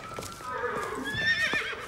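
A horse gives a short whinny with light hoof clip-clops underneath, brief and moderately close.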